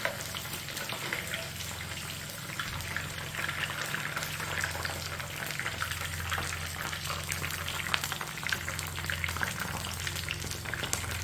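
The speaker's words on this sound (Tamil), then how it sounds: "நல்லா கொதிக்கணும்" A pot of sambar boils with a constant close bubbling and hiss, steady throughout with no voices.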